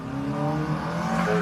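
A front-wheel-drive Mitsubishi Eclipse revs hard during a failed drift attempt, its engine note holding steady and rising slightly, with a hint of tire noise in a continuous, fairly loud burst.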